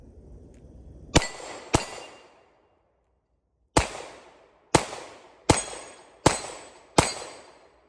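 Seven sharp, loud pistol shots from an HK USP9C fitted with a DPM recoil reduction system crack outdoors, fired singly at uneven intervals with short decaying echoes and a long pause after the second shot.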